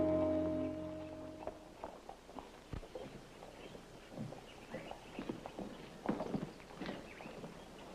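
Horse hooves clip-clopping at a walk, faint irregular knocks on hard ground with a low hum in the background and no talking.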